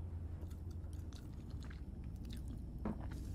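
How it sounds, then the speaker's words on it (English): Close, wet munching and soft biting from someone eating food, with small squishy crunches repeating irregularly over a steady low room hum; no talking. "I'm still munching on the food"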